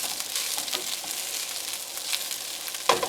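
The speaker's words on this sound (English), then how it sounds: "Listen to that sizzle, everybody." Fried rice sizzles steadily in a hot pan with onions cooked down, a continuous bright hiss with small crackles and a brief clatter near the end, no voices.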